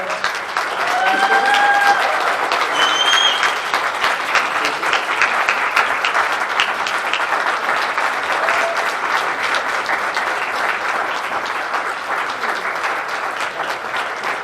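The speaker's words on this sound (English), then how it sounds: "I just want to give these guys a big round of applause" Sustained round of applause from a conference audience honoring a couple, dense and loud throughout about fourteen seconds, with a brief higher tone near the start and no one speaking.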